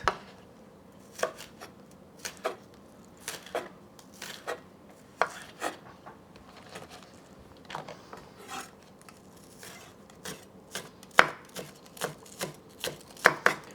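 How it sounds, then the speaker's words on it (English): A knife chops through cucumber on a cutting board in irregular, quiet cuts, a dozen or so sharp taps spread out with pauses between. "just chopping the cucumber, just a few cuts on the top."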